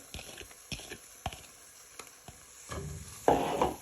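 Chopped onion and garlic hit a hot pan for pumpkin soup and get stirred with a wooden spoon: a few soft scraping taps, then a sizzle that swells loudly near the end.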